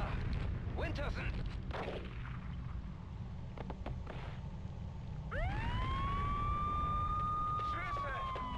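Gunfire in the German version of the video game Max Payne 2: The Fall of Max Payne, several sharp loud shots in the first seconds, followed by a rising police siren wail over a rumbling background while voices speak.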